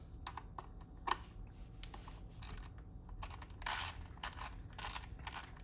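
A ratchet with an E8 Torx bit clicks in short quiet bursts while loosening lightly torqued bolts on a BMW B46 engine in an X3 G01, with faint mechanical handling noises between.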